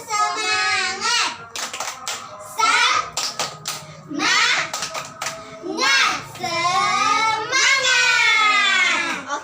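Elementary schoolchildren in an Indonesian classroom chant in unison and clap sharply in bursts, with short pauses between phrases.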